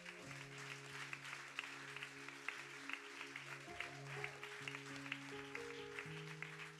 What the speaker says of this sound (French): On acclame le Seigneur pour Dominique.